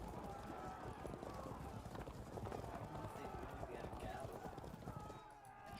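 Armored medieval horses galloping in the strategy game Field of Glory: Medieval, a dense steady clatter of hooves throughout, fairly faint, with a voice talking over it.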